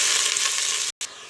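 Bay leaf, cardamom and cumin frying in oil in a pot for a one-pot chicken pulao, a close, bright continuous sizzle that cuts out abruptly for an instant before resuming more softly.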